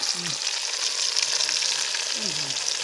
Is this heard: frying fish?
yes